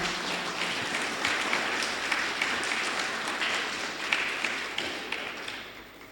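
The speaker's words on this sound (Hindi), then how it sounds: "जोरदार तालियों की गड़गड़ाहट।" Applause from guests at an award presentation during a road safety awareness vehicle rally, a continuous wash of clapping with occasional sharper taps, moderately distant and steady throughout.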